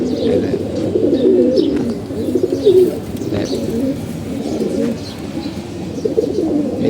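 Several pet pigeons coo nearby in rolling, overlapping calls that swell and ease without pause, with a few faint chirps above.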